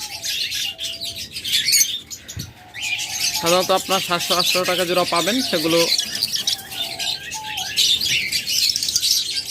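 Caged lovebirds and budgerigars chirp and tweet in a busy bird shop, a dense chatter of many small birds running throughout, with someone talking over much of it.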